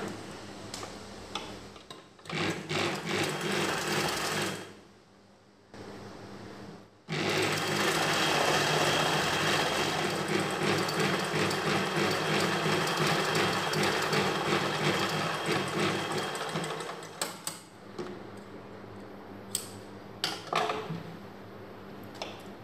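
A sewing machine stitches folded blouse fabric in long bursts, a rapid ticking mechanical clatter, loud and close, stopping briefly twice before a final stretch of short runs and clicks.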